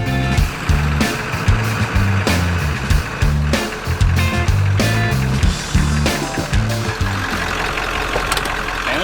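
A vintage 4x4 truck camper's engine runs loud and close, a rough, pulsing drone with uneven clunks and rattles throughout.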